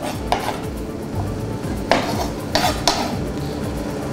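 Limpets going into a frying pan with chopped onion, a few sharp metallic clinks and clatters of shells and utensils against the pan over a low kitchen background, with no one speaking.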